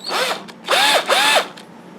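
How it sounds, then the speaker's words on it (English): A power drill bores into a wood carving in three short, whining bursts that rise and fall in pitch, loud and close with no talking. "So I've got me a drill here that's a little larger than that nail"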